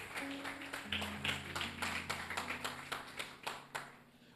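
Congregation applause at a church service, steady rhythmic hand clapping over a low sustained hum, heard faintly and evenly for a few seconds.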